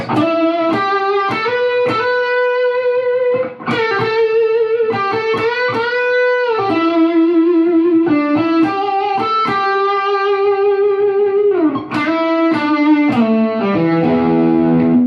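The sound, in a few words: electric guitar solo with vibrato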